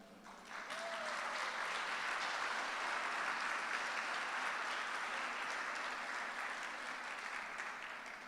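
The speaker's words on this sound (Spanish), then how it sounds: "Gracias por ese aplauso espontáneo." A church congregation clapping, a steady wash of applause that rises quickly and holds for several seconds before slowly thinning.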